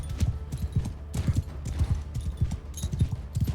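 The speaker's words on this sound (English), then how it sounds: "Let's get the horses over here." Horses' hooves clip-clop in the Mount & Blade II Bannerlord medieval battle game, steady overlapping thuds from several animals moving at a walk, close and continuous with no talking.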